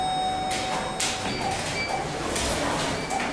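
1990s Schindler lift doors at Wellington Central Library slide with two quick whooshing, rattling bursts against a faint hum, fairly close and with no voices.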